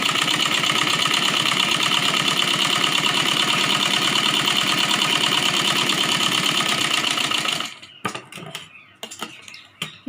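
Sewing machine running steadily while stitching a Rajputi kanchali blouse, a fast, even mechanical chatter that holds for about eight seconds, then stops and gives way to a few scattered clicks and handling noises.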